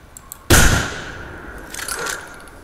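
A single loud rifle shot fired at a bison in the hunting game theHunter on Whiterime Ridge, a sharp close crack with a decaying tail, followed by fainter rumbling and a softer secondary noise about a second later.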